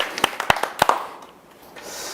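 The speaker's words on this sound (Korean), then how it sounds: "박수 한번 주세요" A handful of sharp, scattered handclaps from a small indoor group at a company meeting, about five quick claps in the first second, then fading into quiet room tone.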